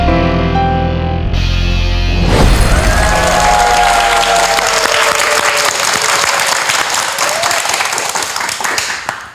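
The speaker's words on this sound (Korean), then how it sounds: "박수로 환영해 주십시오." A TV talk-show studio audience claps to welcome a parasitology professor for a lecture, a dense, loud burst of applause that starts after a brief musical sting and continues steadily before tapering off.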